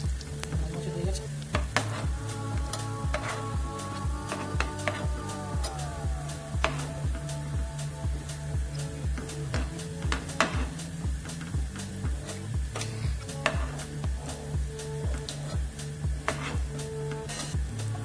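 Chana dal and potato pakoras fry in hot oil with a steady, dense sizzle, while the utensil clicks and scrapes at a regular beat as the fried pieces are lifted out. A low hum runs underneath throughout.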